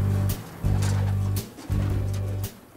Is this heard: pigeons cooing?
yes